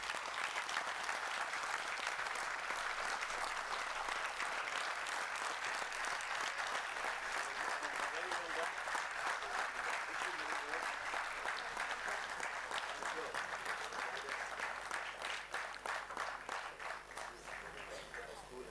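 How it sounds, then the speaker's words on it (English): A large audience at a school annual day gives sustained, dense applause that holds steady for many seconds before starting to thin toward the end. "A huge round of applause."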